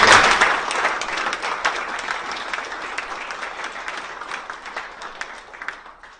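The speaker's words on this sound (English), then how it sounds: "Let's give all of our Hall of Fame inductees a round of applause." An audience at a Hall of Fame induction ceremony gives a dense, loud round of applause that peaks at the start and slowly tapers off, with no voices over it.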